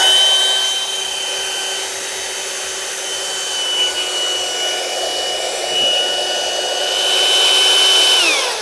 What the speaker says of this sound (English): I'm going to put it on the deflate mode, put this inside the valve here and turn it on to suck all of the air out